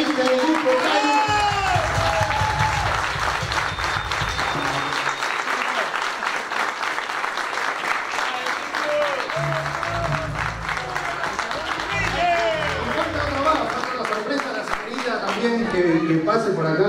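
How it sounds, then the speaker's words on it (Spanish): A live audience at a concert claps steadily and loudly throughout, with crowd noise and cheers, while voices speak over it. "Fuerte el aplauso para el amigo Guido"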